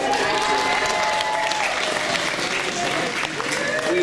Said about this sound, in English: Just give him a applause.